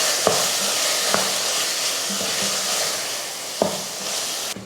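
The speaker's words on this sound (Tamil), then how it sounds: "மட்டன் வந்து வதங்கிட்டு இருக்கட்டும்" Mutton sautéing with coriander powder and chilli powder in a pan for a Tamil-style mutton salna, a steady close sizzle and hiss broken by a few sharp spoon-on-pan knocks and stirring scrapes, with no talk.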